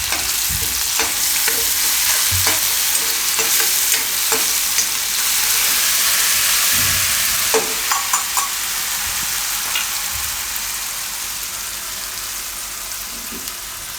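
Ginger, green chilli and garlic paste fries in oil for a Gujarati fried roasted-aubergine dish. A loud, continuous close sizzle carries occasional spatula scrapes and pops, easing slightly in volume toward the end with no talking.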